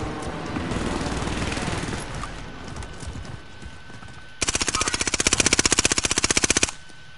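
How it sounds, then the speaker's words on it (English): Rapid automatic gunfire from a PS4 shooter game bursts out in a fast, even rattle for a couple of seconds, preceded by softer game ambience and scattered shots. "Yeah, I know you're shooting me."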